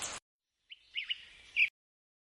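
Short bird chirps and tweets, a brief burst followed by a thin warbling call that ends in a brighter note, fairly faint and heard alone.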